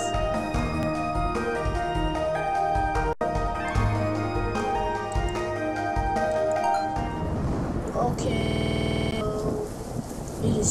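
Steady rain hiss with rumbling thunder plays through a video game under layered music and electronic tones, continuous and moderately loud.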